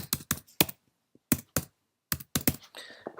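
Someone types on a computer keyboard nearby, entering an image search on Google: irregular bursts of sharp key clicks separated by short pauses, loud and isolated with no talk.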